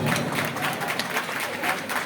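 Guests at a Trabzon wedding celebration clap together in a dense, lively burst of applause that stays loud and close for the whole stretch, with a faint voice mixed into the crowd.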